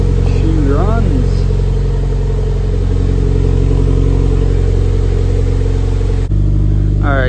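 A Mitsubishi Evo 9 with a faulty starter signal wire, just started, holds a loud, steady close-up idle rumble with a brief voice early on. Its tone shifts abruptly near the end.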